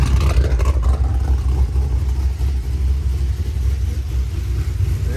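A stage 4 tuned car engine runs steadily with a deep low rumble and mild revving throughout, fairly loud but more subdued than expected, with no talk over it.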